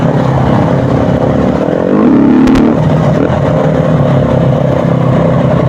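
A motorbike engine runs loud and close for the whole stretch with a steady droning note, swelling briefly as it revs partway through, and no voices over it.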